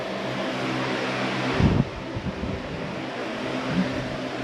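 The wiper motor on a 2013 Ford Escape spins with a steady, close mechanical whir and hum, briefly surging louder about a third of the way through, with nobody speaking.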